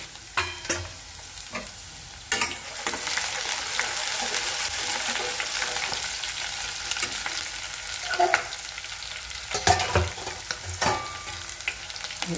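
Cumin, garlic, ginger and dried chillies fry in hot oil, a continuous crackling sizzle broken by several loud scraping stirs of a spoon against the pan, close up with no talking.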